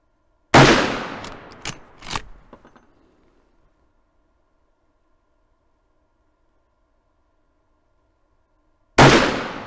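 Rifle fired with iron sights at a target: three sharp, loud shots in quick succession, each followed by a short decaying echo, then a long silence before a fourth loud report at the end.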